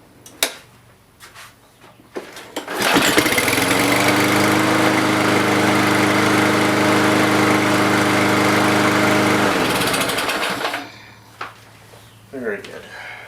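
A Kohler small engine with a faulty auto choke cranks with a few short pulls, then catches and runs loud and steady up close for several seconds before cutting off, with brief clunks and a voice around it.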